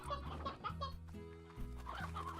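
Chickens cluck in Slime Rancher on a game farm, a quick run of close, fairly quiet clucks and squawks that overlap for a couple of seconds with no talking.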